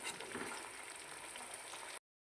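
Jackfruit curry with potatoes and dried red chillies frying in a pan, a soft continuous sizzle for about two seconds that cuts off abruptly into silence.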